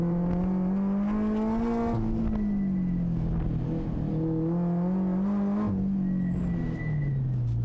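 A race car engine drones loud and steady with the throttle held wide open through a corner on a drifting track, pitch rising and dipping slightly as revs hold high, with no one talking.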